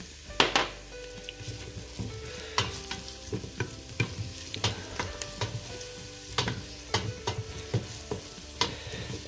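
Garlic cloves sizzle and fry with onion in a pan for a mussel broth, a steady crackle broken by repeated sharp clinks and scrapes of a utensil stirring against the pan.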